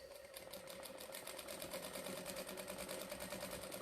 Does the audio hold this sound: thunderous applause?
no